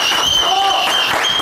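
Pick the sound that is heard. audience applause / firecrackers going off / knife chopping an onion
audience applause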